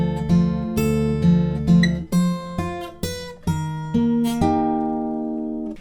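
An acoustic guitar plays a line of the Harry Potter theme fingerstyle. Distinct plucked notes and a barre chord ring out one after another, each struck clearly and left to decay, loud and close.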